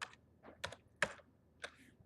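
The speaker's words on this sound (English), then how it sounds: "The first is to just type out your variable," Four or five quick, faint keystrokes tapped on a computer keyboard, irregularly spaced and heard alone.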